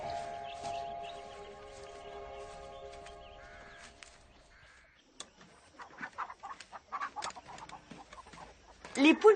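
Hens clucking on a farm: a brief crowing call and scattered clucks break in after a stretch of quiet speech-like sound, growing louder near the end of the clip.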